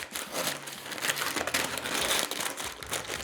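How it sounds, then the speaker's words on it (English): Parchment paper crinkles and crumples steadily up close while lining a baking pan for brownies, a dense run of crackly rustling with no talking. "I'm going to stick a piece of parchment paper to the bottom of it"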